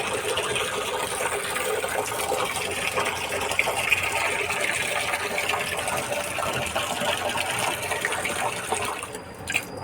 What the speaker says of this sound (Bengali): তো জলটা ভরে নিই।